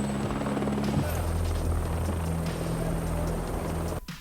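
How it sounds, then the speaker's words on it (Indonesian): A helicopter arriving in an Indonesian film, a loud continuous rotor drone with steady engine whine that holds throughout and cuts off abruptly near the end. "Iceman datang dengan sebuah helikopter karena dia merupakan seorang tahanan yang istimewa"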